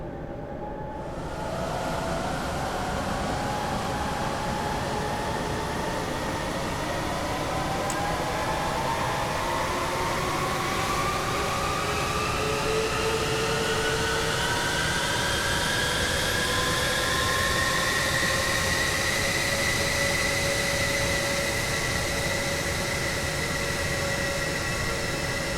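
Four jet engines of a B-2A Spirit stealth bomber in a flight simulator spool up from start to idle, a loud steady roar with rising whine tones building over about 25 seconds, no talking.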